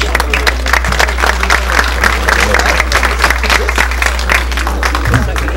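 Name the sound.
applause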